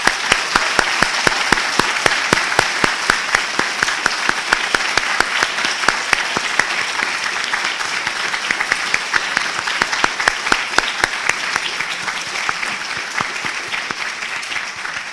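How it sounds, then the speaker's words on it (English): Loud, sustained audience applause for four debaters at a medical school debate, dense crowd clapping with sharp individual claps standing out, easing slightly toward the end. "please joining me in a healthy round of applause for our 4 debaters."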